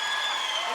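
A concert crowd applauding and cheering after a live rock performance, a dense, steady wash of clapping throughout a brief burst.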